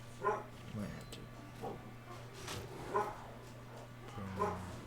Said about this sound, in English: Oh, puppies.